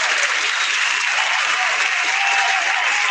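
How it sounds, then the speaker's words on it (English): Audience applause for dancers, a thick wash of clapping from a crowd, loud and continuous throughout. "give them a round of applause"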